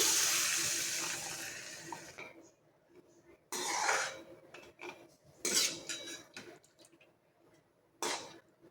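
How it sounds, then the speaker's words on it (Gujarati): Water pours steadily into a pan of stuffed eggplant curry for about two seconds, followed by scattered clinks and scrapes of cookware. "1 ગ્લાસ જેટલું આપણે અહીંયા પાણી ઉમેરીશું"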